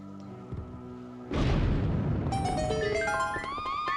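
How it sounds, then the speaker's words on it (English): A bomb blows up in Four Swords Adventures: a single loud boom with a rumbling tail after a quiet moment, followed by bright chiming game tones. "if you throw it at an enemy, it'll blow up right away as soon as it hits the enemy"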